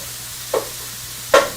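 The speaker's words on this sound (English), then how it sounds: "You can hear that sizzle though," Pork and beans stew in a worn non-stick pan over medium heat gives two short, close bursts of sizzle and stirring about a second apart, over a quiet low hum.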